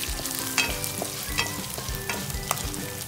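Cashew bits roast in hot oil with a continuous close sizzle, punctuated by a few sharp clicks and scrapes of a spatula stirring against the pan.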